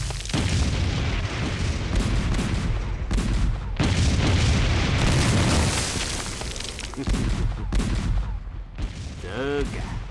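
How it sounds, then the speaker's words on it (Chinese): Bombing in a wartime Chinese TV drama: heavy, rumbling explosions and booming blasts follow one another with brief gaps, loud and dense, and a few sharper bursts near the end. "我这里也遭到了轰炸。"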